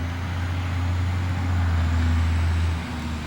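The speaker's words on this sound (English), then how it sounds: "Oh, thank you, big truck." A big truck passes by on a road, producing a steady, loud, low engine rumble that swells and then eases over a few seconds. No one speaks.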